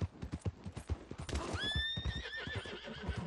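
A horse in the video game Red Dead Redemption 2 gives a loud, clear whinny over steady clip-clopping hooves.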